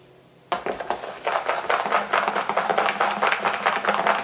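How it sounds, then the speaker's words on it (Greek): Wire whisk beating red-tinted pancake batter in a bowl, a close, steady run of quick metallic scrapes and clinks that starts abruptly after a brief quiet moment and keeps an even rhythm throughout. "Και απλά μαζί με το σύρμα το ανακατεύω, να ανακατευτεί πολύ καλά και το χρώμα"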